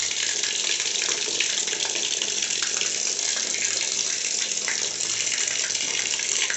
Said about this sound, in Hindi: तो इसीलिए हाथ से कपड़े धो रही हूँ